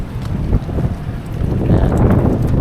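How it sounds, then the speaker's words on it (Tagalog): Strong wind gusts roar steadily outdoors at a small town Korean market, blowing leaves about, with broadband rushing noise and buffeting on the microphone throughout. "ang lakas ng hangin dito"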